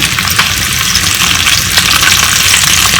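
Cabbage seasoned with salt and pepper sautés in a pan with a loud, close, continuous crackling sizzle and no talking.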